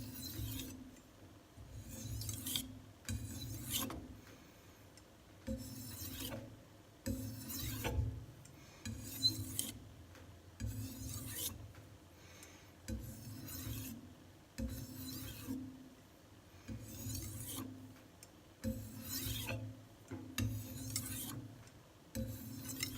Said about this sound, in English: Such a pleasurable stone to sharpen on.